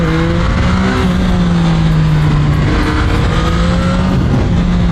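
A car engine drones and pulls hard on an open road while overtaking a truck, its steady tonal hum loud and close with a constant road roar beneath, and no voices.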